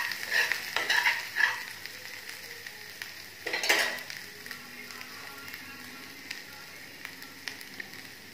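A spiced mixture with turmeric powder frying in a pan for a potato kachori filling. A soft steady sizzle runs underneath, with several brisk scraping stirs near the start and one more around the middle.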